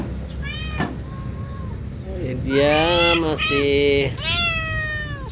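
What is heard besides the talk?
cat meowing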